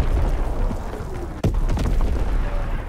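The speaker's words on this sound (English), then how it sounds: "Firing primary battery." A warship's primary battery of naval guns firing in Call of Duty WWII, heavy booming blasts over a constant deep rumble, with one sharp loud report partway through.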